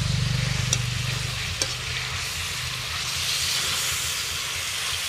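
Chicken adobo sizzles and fries in a pan, a steady close hiss of cooking with a couple of sharp clicks early on and a low rumbling hum underneath, no talk.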